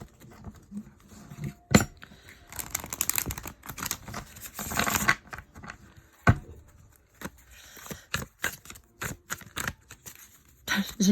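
Dixit Disney cards are handled and shuffled up close in irregular bursts of riffling and tapping, broken by sharp clicks and pauses.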